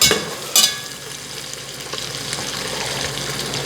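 Bacon chips stirred in a hot pan as they fry and curl, two sharp scrapes at the start, then a steady close sizzle with faint stirring rattles, no talk.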